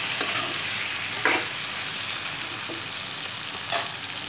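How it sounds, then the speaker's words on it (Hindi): Tomatoes fry in a pan for an aloo baingan sabzi and hiss with a loud, dense, continuous sizzle up close. Two or three brief scraping stirs break through, and nobody speaks. "टमाटर को सॉफ्ट होने तक हम इसको भूनेंगे"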